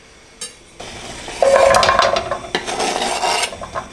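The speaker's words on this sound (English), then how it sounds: "we're gonna go ahead and scoop the guanciale in there" Guanciale is scooped into a pan for bucatini all'amatriciana, giving scraping and clattering spoon-on-pan noises that build to a dense, continuous rattle for a couple of seconds, close and fairly loud, with no talking.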